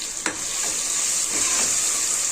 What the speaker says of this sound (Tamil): தக்காளி அது கூட இந்த முடகத்தாங்கீரை இது எல்லாத்தையுமே சேர்த்துக்கலாம் சேர்த்துட்டு இதையும் நல்லா வதக்கிக்கலாம்